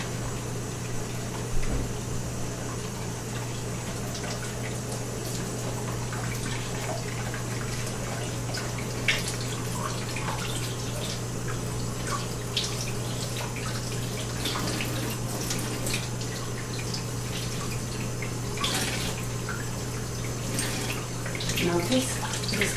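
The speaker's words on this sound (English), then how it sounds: "We will rinse it properly so that all the soap, the detergent will be removed." Water rinsing soap and detergent off an orchid, a continuous faint splashing flow with scattered drips and small knocks under a low steady hum.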